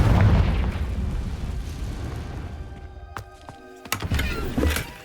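Hogwarts Legacy blasting spell cast in an abandoned part of a tower, giving a deep booming explosion over steady low rumble, with sharp cracks and debris bursts near the end.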